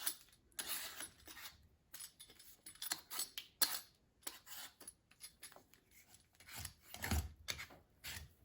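A vegetable peeler scrapes the skin off a butternut squash in a series of short, quick rasping strokes, close and fairly quiet, with brief pauses between strokes.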